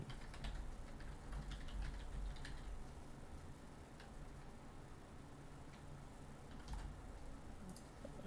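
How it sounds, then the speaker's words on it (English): Keys are tapped on a keyboard in a quiet room, a faint, irregular stream of soft ticks and clicks against steady background hiss. "I'm typing it out."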